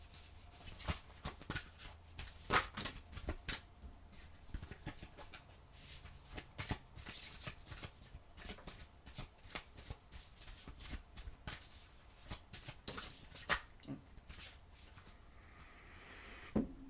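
Deck of oracle cards being shuffled by hand at close range, a continuous rustle of riffles and slaps in uneven bursts with no talking.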